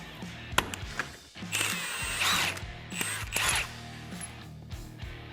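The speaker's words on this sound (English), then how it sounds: "We'll just go ahead and remove our cotter pin and our castle nut." Metal tools click and ratchet while a cotter pin and castle nut come off the axle of a Polaris RZR XP Turbo side-by-side. Close mechanical ratcheting and clanks, including a couple of longer grinding bursts, with no talk.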